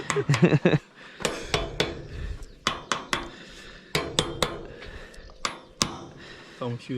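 A metal part on farm machinery, a small bushing, is lightly hammered into place with a rapid series of sharp metallic clanks spread across the clip, while someone talks over them.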